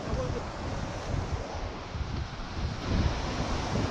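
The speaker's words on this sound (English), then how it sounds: "The wind's picked up to about" Wind blows steadily across the coast at Twofold Bay, a broad rumbling rush buffeting the microphone, with surf-like swells of noise and no clear speech.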